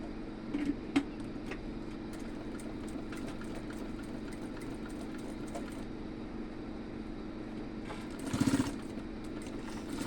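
A sewing machine stitches petticoat fabric, giving a steady mechanical whir with a soft rhythmic patter throughout and a louder burst near the end, heard close and alone.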